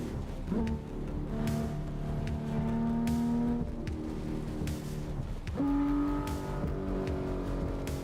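Car driving in the racing game Assetto Corsa, played on a triple-screen setup: a steady engine drone with rising revs and shifts, loud and continuous throughout.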